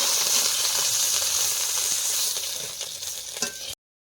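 Fish sizzling steadily in hot oil in a kadai, cooked outdoors in the rain, a dense close frying hiss that thins near the end and then cuts off abruptly.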